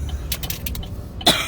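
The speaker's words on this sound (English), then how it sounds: "A little morning time cough." A single short morning cough near the end of the clip, sharp and close, preceded by a few faint clicks and rustles in a quiet room.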